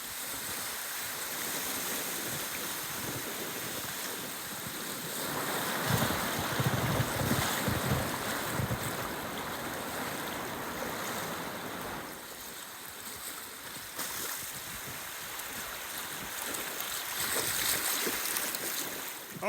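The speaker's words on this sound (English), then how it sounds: "That's the sound of the Upper New River near Baker Island." Steady broadband rush of the Upper New River flowing near Baker Island, a continuous outdoor water roar that swells slightly midway and holds without any voices.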